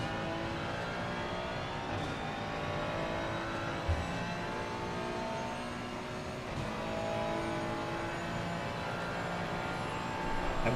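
A BMW GT3 race car in a racing video game drives the Circuit of the Americas track, its engine holding a steady, sustained drone with slight rises as it accelerates, and no voices over it.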